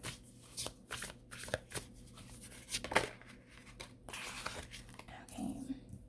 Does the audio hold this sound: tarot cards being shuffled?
yes